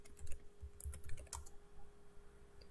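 Rapid keystrokes on a computer keyboard, clicking in uneven bursts close to the mic with a faint steady hum behind, no voices.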